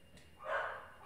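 A single faint dog bark or yip, heard at a distance in a quiet room.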